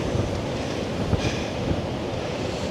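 Strong coastal wind from Storm Darragh roars and buffets the microphone on an open seafront promenade at Mablethorpe, Lincolnshire, a continuous dense rush with no pauses and no voices.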